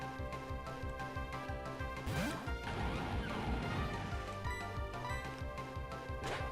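Icicle Crash, an attack in the Pokemon Renegade Platinum video game, lands as a loud shattering crash with cascading impacts over ongoing battle music.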